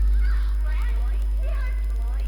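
A weird bird in the horror video game Indigo Park honking loudly in short goose-like calls, repeated a few times over a heavy low hum.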